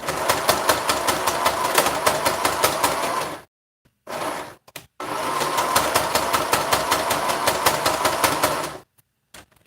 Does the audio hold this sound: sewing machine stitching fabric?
yes